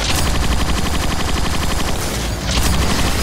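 A rifle in Transformers: Rise of the Dark Spark fires in a rapid, unbroken automatic stream, loud and close, with a brief pause before the burst resumes.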